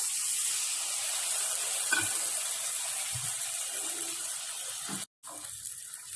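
Water poured into a cooking pan over a steady close hiss, with a few soft splashy bumps and a brief dropout near the end.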